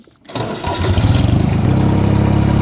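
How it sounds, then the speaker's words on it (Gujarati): A small tractor engine starts on a farm with a pomegranate orchard, a quick cranking catch that rises into a loud, steady, rapidly chugging idle close by. "આપણે ટ્રેક્ટર લઈને જવાનું છે આ નાનું ટ્રેક્ટર"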